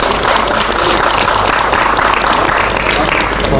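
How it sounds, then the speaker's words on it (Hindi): An audience at a yoga and health session applauds in a dense, continuous burst of clapping, with a low hum and some voices underneath. "जोरदार ताली बजा दो।"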